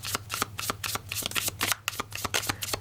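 A deck of oracle cards is shuffled up close for casting a hexagram, giving quick, rhythmic riffling slaps and flutters that repeat in rapid bursts, with no talking.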